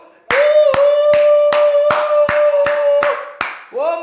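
An audience applauds a donation pledge at a school fundraiser, a short burst of loud, closely spaced claps with a steady pitched tone running underneath, ending in a brief quieter rustle.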